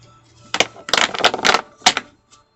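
Tarot cards are shuffled in several quick riffling bursts, crisp and close, separated by short pauses.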